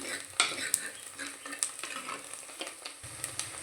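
Onions sautéing in sesame oil in a pan while cooking a Kerala-style fish curry: steady close sizzle with scattered sharp clinks of a spatulaike stirring against the pan, no talk.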